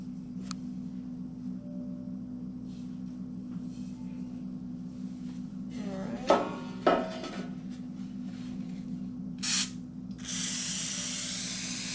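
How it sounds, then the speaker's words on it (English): Cooking spray is sprayed into a loaf pan for banana bread: a couple of short hissing spray bursts around the middle, then a longer steady hiss at the end, over a constant low hum. "So we're just gonna spray it"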